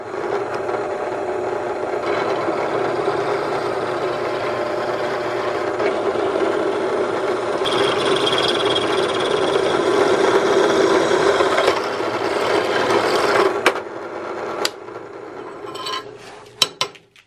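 A power drill whirs steadily for about thirteen seconds, boring a quarter-inch hole through wood, then winds down with a few clunks and taps at the end.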